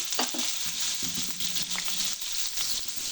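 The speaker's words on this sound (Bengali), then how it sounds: "এবার কুচনো পেঁয়াজ দিয়ে দিচ্ছি তেলে" Chopped onions sizzle and crackle in hot oil in a kadai, a steady close frying hiss with small pops and stirring scrapes, no voices.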